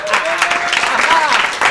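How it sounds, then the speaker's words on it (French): A theatre audience claps together for an applause meter, a dense sustained round of clapping heard up close throughout. "on va procéder à l'applaudimètre"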